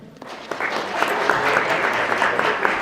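Audience clapping at a town council candidates' meet-the-candidates night, steady broadband applause from a room of people building quickly and holding at a sustained level for a few seconds.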